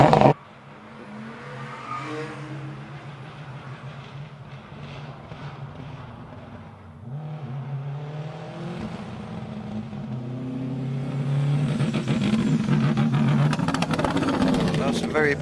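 Race car driven by Damien Bradley at a retro rides gathering, engine note rising as it accelerates round a corner, growing louder and closer toward the end, heard under continuous commentary.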